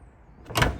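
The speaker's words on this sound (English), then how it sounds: "Both the sliding door and the rear tailgates are, again, this power latching facility." A power-latching sliding door on a VW Transporter T6.1 Sportline closes, a single short thud as it pulls itself shut, near and fairly loud after a quiet moment.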